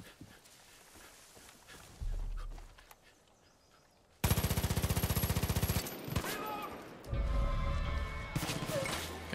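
Automatic gunfire from the Far Cry 5 video game, rapid loud bursts of rattling shots that run for a few seconds, then continue more unevenly amid other game noise and thumps.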